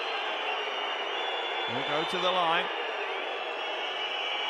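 A basketball crowd at a women's EuroLeague game fills the arena with a constant roar and high, sustained whistling, with a commentator's voice briefly speaking over it in the middle.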